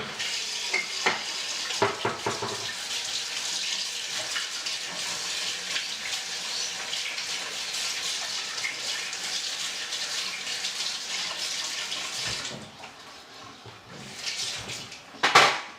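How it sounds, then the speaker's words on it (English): A spoon rinsed under a running kitchen tap, a steady rush of water close by with a few clinks and knocks early on, then the flow stops and a brief clatter follows at the end. "I'm just going to clean the spoon."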